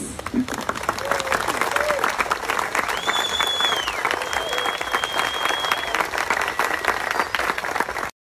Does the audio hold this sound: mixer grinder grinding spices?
no